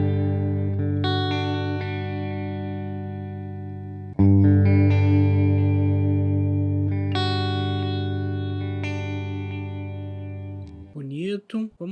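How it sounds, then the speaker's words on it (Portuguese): Electric guitar played through an Ampero multi-effects pedalboard with delay engaged, sustained chords and notes ringing out with echoing repeats and a clean amp tone, loud and continuous, ending with a brief trailing warble. "Vamos colocar aqui então um reverb e um delay."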